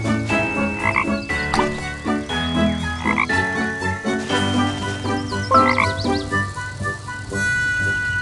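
A cartoon frog in the children's game Leo and Tig croaks repeatedly in a bouncy, rhythmic pattern, loud and clear over upbeat background music.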